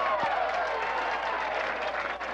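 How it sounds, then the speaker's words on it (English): A college baseball crowd in a stadium applauds and murmurs as a steady, dense wash of distant clapping and cheering that holds for a couple of seconds. "That applause is for a score that rolled across the scoreboard"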